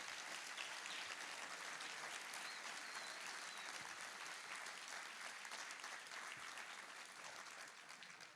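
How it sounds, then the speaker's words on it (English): Steady, even applause from a community forum audience for mayoral debate candidates at a tabernacle in Ocean City, New Jersey, a continuous wash of many hands clapping at moderate distance, alone without talk. "A round of applause for all three, please."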